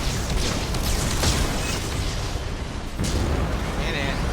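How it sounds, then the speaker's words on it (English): A Geth cannon fires in the Mass Effect 2 Overlord DLC, a loud, sustained wash of booming blasts and rumble that runs through the whole stretch with little pause. "The VI infection has assumed control of the Geth cannon. Warning. We are being targeted."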